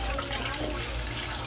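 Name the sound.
running tap water while peeling boiled eggs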